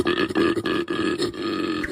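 A koala bellows in a deep, rasping, grunting run of harsh pulses, loud and close, with no talk over it.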